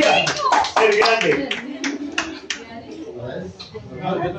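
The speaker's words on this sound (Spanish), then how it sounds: "aplauso." A few people clap in scattered, uneven bursts at close range, with individual sharp hand strikes audible over ongoing talk from nearby voices.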